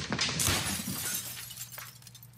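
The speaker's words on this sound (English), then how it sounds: "Michael smashes Simeon's giant glass window with Jimmy's truck." Large glass window shattering as a truck smashes through it in the game GTA 5, a loud burst of breaking glass followed by tinkling shards settling and fading.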